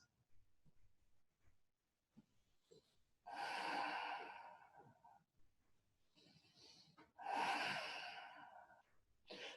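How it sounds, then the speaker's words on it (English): Two deep, slow breaths, each a long airy exhale, drawn close by during a yoga relaxation pose while lying face down with the head resting on folded arms. Quiet pauses separate the breaths, and no one speaks. "Just keep the focus on your breathing."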